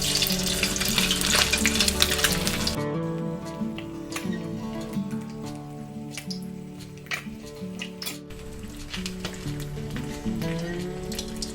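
Loud, continuous sizzling of snakeskin gourami fish frying in hot oil in a pan, a dense crackling hiss that carries on steadily throughout.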